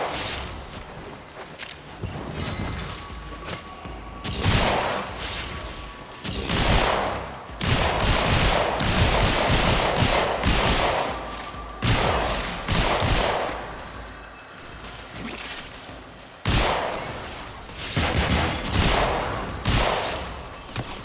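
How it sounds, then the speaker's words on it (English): Repeated bursts of Sicarius Prime burst-fire pistol shots from the Warframe video game, loud clustered volleys recurring every few seconds, with footsteps and chaotic combat noise between them. "Pistol I'm using is a burst fire, Sicarius Prime"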